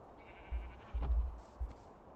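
Sheep bleating on a Minecraft farm, several short game bleats spaced apart over a low background, moderately loud and alone.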